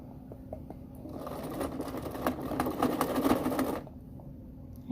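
A sewing machine stitching a fabric mask whirs in a fast, rapid burst of stitches for a few seconds, close up, then stops, with faint ticks before and after.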